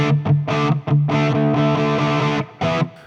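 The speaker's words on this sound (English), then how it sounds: "Oh, we've actually got a distortion one again" A guitar runs through the distortion patch of a Zoom 505 effects processor: a few clipped, buzzy notes, then a longer sustained chord and a final short stab, loud and without voices.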